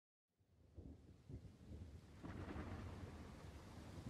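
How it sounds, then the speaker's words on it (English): A video game thunderstorm rolls in as deep rumbling thunder builds and swells with a steady hiss of rain underneath, growing louder over a few seconds. "Oh, here we go. Here's the storm."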